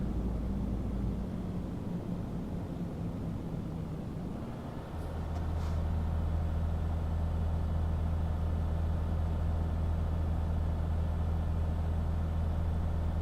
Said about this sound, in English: Stuck behind this traffic.